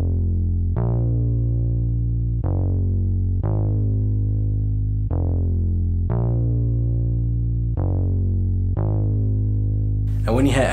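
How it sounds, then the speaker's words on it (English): Simple synth bass line for a Logic-style beat: a deep, round note pulses in a steady repeating pattern of plucked hits, each decaying quickly, heard alone and up close before a brief noisy burst at the very end. "I came up with this really simple bass line that matched the main melody"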